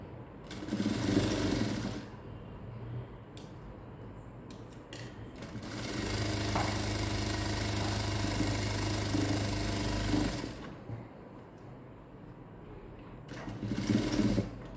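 A sewing machine stitching the neck of a close-neck blouse. Bursts of steady whirring and rapid needle chatter come in separate runs, with short quiet pauses between them.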